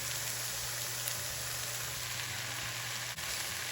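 Black bean crumbles cooking in a pan for vegetarian street taco bowls, a steady close hiss of sizzling with a faint low hum underneath, unbroken and even, with no voices.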